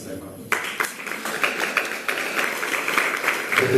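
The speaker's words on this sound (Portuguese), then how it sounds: "Palmas para ela." Audience applause at a spiritual talk on Sai Baba's teachings starts suddenly after a brief quiet moment, then holds as a dense, steady wash of many hands clapping with scattered sharper claps, fairly close and full.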